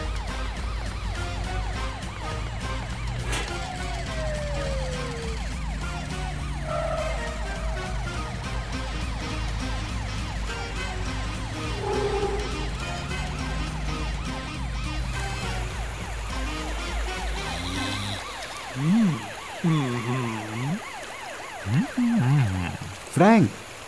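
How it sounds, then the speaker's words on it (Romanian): A cartoon patrol car's sirens wail in rising and falling sweeps over steady background noise, then switch to faster, louder warbling bursts toward the end. "Nu te pot auzi din cauza sirenelor."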